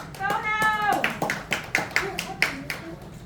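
Audience at a Polynesian luau show applauding, a short run of sharp, uneven claps building after a brief bright tone, with voices in the background.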